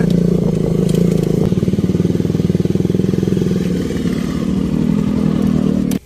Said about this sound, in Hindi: वो पहाड़ पे जा रहे हैं सारे के सारे बाइकर्स